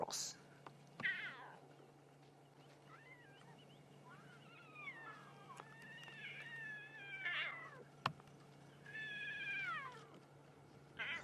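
Wild cat cubs call near a safari vehicle on a morning drive, giving several whining, meow-like cries in bursts that sound much like a house cat, with quiet human voices in the background.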